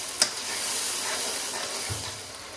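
Steam hisses steadily and close up from water splashed onto softening onions in a hot pan, opening with a sharp sizzle and then a continuous broad hiss, with no talking.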